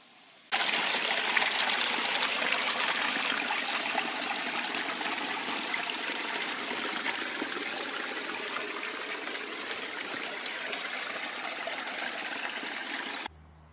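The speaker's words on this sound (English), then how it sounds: "You can hear water running." Water trickles and streams steadily across saturated moorland ground in Dartmoor, a continuous close babbling flow that holds at an even level for more than twelve seconds with no voices.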